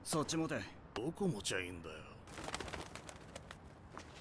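Pigeon or dove cooing in short low repeated calls, partly under loud voices and other sounds from an animated show.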